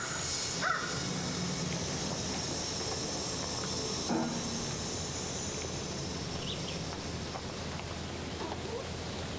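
Refrigerant hissing from a hex service valve being opened on an MRCOOL Universal Series HVAC unit, a faint, steady hiss under background noise with a couple of brief clicks of the valve.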